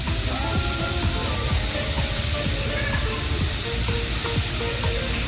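Finely shaved steak sizzles on a Blackstone griddle, a steady, dense hiss running without a break from start to finish, with faint background noise underneath.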